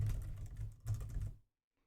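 Code being typed on a computer keyboard, a quick close burst of clicking keystrokes for about a second and a half, then stopping into near silence.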